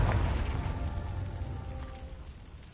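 A Confringo blasting spell detonates in a video game, a single deep boom that fades into a low rumbling tail over a couple of seconds, heard alone.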